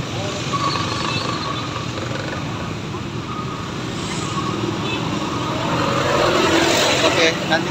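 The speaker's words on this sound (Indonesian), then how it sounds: "Oh, truk sawit banyak." Palm oil trucks rumble past on a damaged public road, a continuous broad engine and road roar that swells louder toward the end, with voices talking over it.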